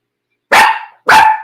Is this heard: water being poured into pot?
no